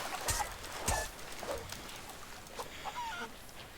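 Chickens cluck in the pirate video game Sea of Thieves. Short, scattered squawks and clucks rise over a steady noisy background, at moderate loudness.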